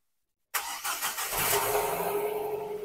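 A Nissan car engine starts abruptly after a moment of silence, catching with a burst and then revving up into a steady, close running tone.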